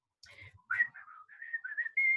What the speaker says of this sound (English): She heard his whistle.